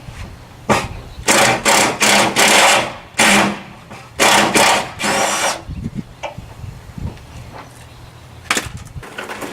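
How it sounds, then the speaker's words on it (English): Power drill boring out rivets on a 1948 Ford sedan body during a swap onto a Ford Ranger, loud close whining bursts in rapid succession, then a pause and a couple of shorter later bursts, with no talk. "I'd drill them out."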